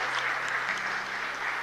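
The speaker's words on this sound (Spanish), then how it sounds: "Un fuerte aplauso para ellos." A church congregation at mass claps together in a brief, dense burst of applause, steady and even throughout.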